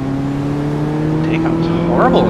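A car accelerating in the video game Car Mechanic Simulator 2014, a steady droning engine tone that climbs slightly in pitch, with a voice speaking briefly near the end.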